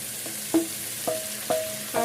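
Half a kilo of cut tomatoes goes into a hot pan for egg aloo curry, bringing a steady broadband sizzle broken by four sharp clatters and stirring knocks spaced roughly half a second apart, close up, with no talking.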